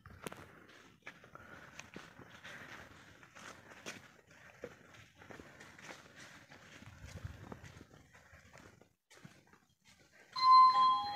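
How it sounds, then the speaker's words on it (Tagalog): A doorbell chimes once near the end after a long stretch of faint shuffling and background noise. "Nagdo-doorbell na."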